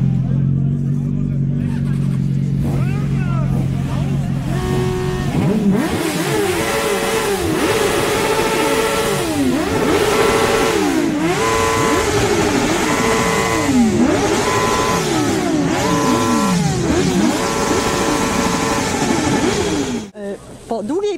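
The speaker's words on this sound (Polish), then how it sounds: "chciałabym, aby teraz uczcić jego pamięć rykiem silników" Motorcycle engines roar in a town square in Cieszyn, Poland, at the Easter start of the riding season. A low idle rises into loud, repeated overlapping revs that surge and fall in waves over a crowd murmur, then briefly drop near the end.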